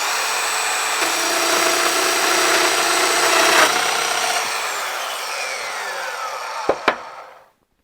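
Festool Domino joiner plunging a mortise into a wooden board: a sustained high motor whine with cutting rasp that holds steady, then winds down with a couple of sharp clicks at the end, no talking.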